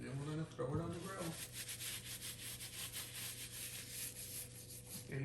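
Seasoning is rubbed by hand onto pork for pulled pork, giving a soft, steady, close scrubbing texture that runs throughout, with a voice briefly at the start.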